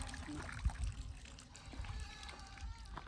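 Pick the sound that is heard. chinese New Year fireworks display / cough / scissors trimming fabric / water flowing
water flowing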